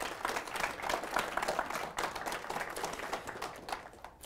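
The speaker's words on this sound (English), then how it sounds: "Big round of applause." Audience applause at a university IT mobile apps contest award ceremony, steady dense clapping from a crowd lasting several seconds without pause.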